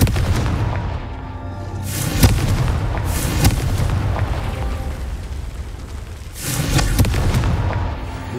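Confringo fire spell explosions in Hogwarts Legacy burst as several loud booms over a constant rumbling background, each blast followed by a noisy decaying roar.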